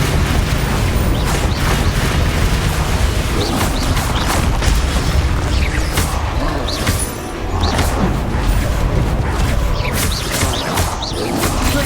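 Incendio fire spell cast in Hogwarts Legacy, loud whooshing blasts and booming impacts piling up in continuous, dense combat noise with no clear pauses.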